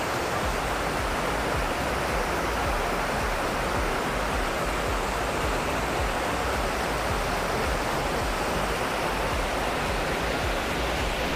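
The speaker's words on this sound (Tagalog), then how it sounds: "ang tunog ng waterfall" A waterfall and stream at a mountain resort in Tago, Surigao del Sur, Philippines, pour in a dense, unbroken rushing roar, loud and close, with no voices over it.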